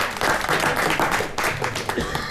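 A small audience gathered on a live stream in Reykjavik breaks into brief applause, a close, dense flurry of clapping with voices mixed in.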